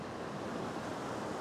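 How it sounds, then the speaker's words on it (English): Big ocean waves crash against a rocky shoreline where people fish, making a steady, loud, close roar of surf and spray with wind noise throughout. "Some big waves coming in just now."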